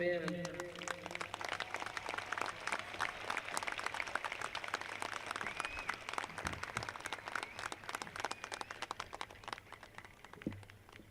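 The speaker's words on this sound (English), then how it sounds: "another round of applause for Ben" Audience applause at a high school graduation ceremony for a teacher receiving an Outstanding Teacher Award, steady dense clapping filling the room throughout, with some voices and a stray tone rising over the crowd.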